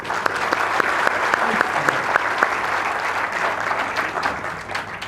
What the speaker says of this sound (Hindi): एक बार ताली बजाइए इनके लिए